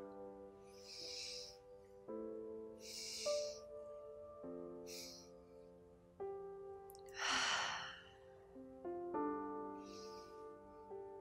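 Slow, deep exhalations during a yoga breathing technique: several soft breathy rushes at regular intervals, fairly close and quiet, over a sustained soft background tone.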